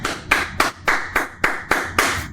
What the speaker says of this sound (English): Round of applause to you, buddy.